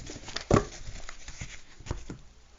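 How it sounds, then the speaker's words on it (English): A few short crinkling, rustling bursts of handled paper, one sharper than the rest, with quieter shuffling between. "Let's shuffle some papers around."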